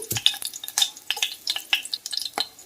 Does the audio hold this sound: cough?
no